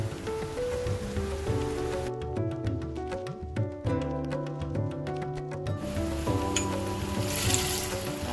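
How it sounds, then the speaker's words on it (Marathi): Cashews, almonds, raisins and charoli seeds fry in hot ghee with a steady, close crackling sizzle, and a faint metallic melody plays over it with no one speaking. "तुपात आम्ही काजू बदाम मनुके आणि चारोळी घेतलेली आहे आता आपण हे चांगलं फ्राय करूया"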